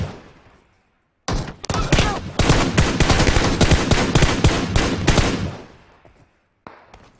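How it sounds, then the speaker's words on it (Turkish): Sustained automatic gunfire in PUBG Mobile, dense rapid bursts rattling loudly for several seconds before tapering off, with a short burst again at the end. "Ya şu yandan sıkıyor, neyine sıkıyor?"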